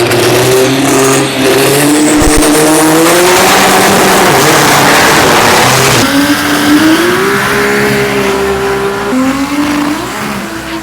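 A loud drag race car engine revs hard and climbs in pitch at a drag racing event in Thailand, roaring close by with a brief crackle, then holds a high, steady drone.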